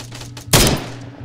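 A single sharp gunshot in Arma 3 cracks loud and close, then its echo fades over a low background hum.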